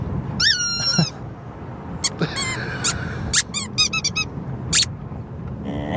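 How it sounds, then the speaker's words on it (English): High-pitched squeaks come in bursts, some drawn out and others short and clustered, over faint background noise. "And hearing only squeaks."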